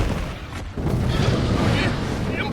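Cannon fire in the Sand Land video game sounds as a heavy booming blast with a rumbling tail, followed by continuous loud, dense battle noise and a voice calling out over it.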